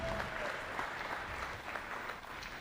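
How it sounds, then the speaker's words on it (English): Applause from the audience at a youth beef cattle show, steady dense clapping that fills the whole moment at moderate distance, with a faint murmur of crowd beneath. "Give him a round of applause already."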